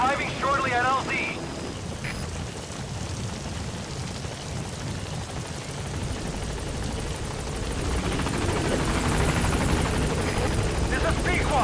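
The Pequod helicopter thumps and roars as it arrives at a landing zone in Metal Gear Solid V, a loud continuous rotor drone under rain, with a voice speaking over it.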